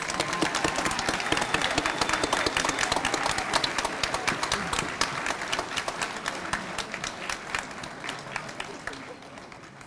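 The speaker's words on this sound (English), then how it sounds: "let's give these folks a round of applause" An audience at a high school senior awards night claps in a brisk, full round of applause that slowly thins and fades, with voices audible underneath.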